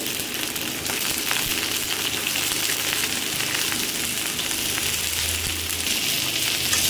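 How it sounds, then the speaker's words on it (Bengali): Finely chopped cauliflower fries in hot mustard oil, giving a steady, dense sizzle that holds at an even loudness throughout, close by, with no talking. "তেল গরম হলেই আমি প্রথমে ফুলকপিটা ভেজে নেব"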